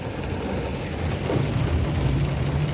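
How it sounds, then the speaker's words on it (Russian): Steady rain pours down during an all-day downpour in Almetyevsk, a dense continuous hiss with a low rumble underneath, filling the scene without any voices. "Вот дождь."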